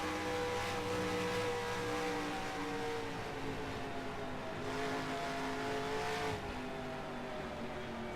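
A race car in NASCAR Racing 2003 holds third gear with a loud, sustained engine drone. Its pitch rises and falls gently under load, with brief swells as it pushes through corners.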